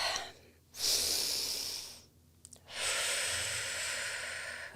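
Two slow, deep breaths during a guided meditation, a long inhale followed by a drawn-out exhale, close and clear in a quiet room.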